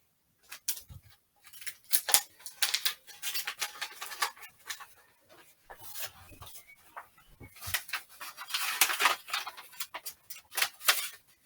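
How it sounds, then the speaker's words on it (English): Short bursts of tape being pulled and pressed down onto paper, with crisp tearing and rustling sounds repeating irregularly, close by. "So last bit of paper, sellotaping on."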